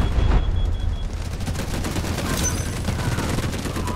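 An artillery barrage in the video game Delta Force, a continuous dense rumble of rapid gunfire and blasts, loud and sustained with a sharper burst at the start.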